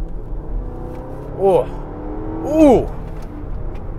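A used Range Rover's engine revs up twice in quick bursts, rising in pitch each time, over a low idle rumble nearby, on a rainy day in Los Angeles.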